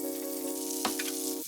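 Butter, about 15 g, sizzles in a wiped frying pan while bento lunch dishes are being cooked, a brief, steady, close crackle.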